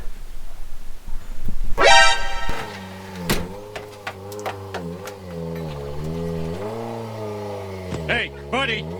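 A Mazda Miata engine turns over with a quick rising rev, then runs steadily with small pitch shifts as the car turns around, a few clicks and a voice faintly underneath.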